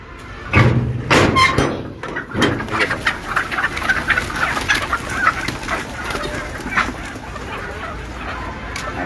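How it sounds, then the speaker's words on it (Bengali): Free-range backyard country hens cluck and murmur as they are let out, a scattered chorus of close clucks over steady outdoor hiss, with a few sharper calls near the start. "এখন মুরগিগুলোকে ছাড়বো"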